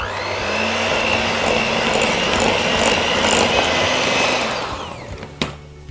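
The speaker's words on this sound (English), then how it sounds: "We're gonna beat this together till it's well incorporated." An electric mixer beats sour cream and vanilla extract for a holiday dessert salad, a loud, steady whirring drone that runs close up for several seconds and then winds down, followed by a couple of light knocks.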